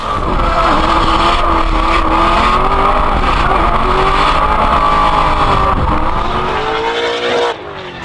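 A Castrol Edge Holden Commodore drift car chases on the track at Hampton Downs, its engine screaming loud and sustained with rising and falling revs and squealing tyres, ending in a sudden drop near the close.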